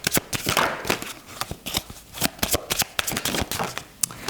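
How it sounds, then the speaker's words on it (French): Tarot cards are shuffled and drawn by hand, a quick run of crisp riffling snaps and flicks close up, with no talking over them. "j'ai tiré encore une deuxième carte là-dessus pour avoir un petit peu plus de clarté"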